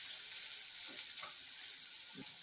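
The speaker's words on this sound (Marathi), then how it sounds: "इथं कढईत आपल्याला मोऱ्यांच्या कोड्यासाला द्यायची फोडणी" A tempering sizzles in a wok for a curry of freshly caught murrey fish, a faint, steady hiss with a few soft spatters and nobody talking.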